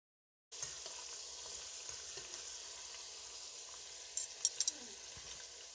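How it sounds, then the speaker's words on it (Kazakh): Folded samsa frying in hot oil in a cauldron, a soft steady sizzle that is faint and continuous, with a few brief crackles and pops near the end and no talk. "Қызып тұрған майға бүгіп қойған дағы салып қуырып аламыз."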